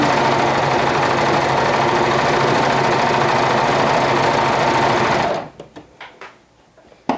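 A sewing machine top stitching a garment runs continuously at a fast, even pace for several seconds up close, then stops, leaving a few soft clicks and handling sounds.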